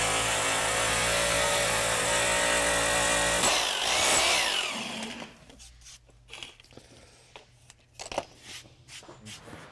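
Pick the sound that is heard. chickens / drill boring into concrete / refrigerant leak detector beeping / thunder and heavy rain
drill boring into concrete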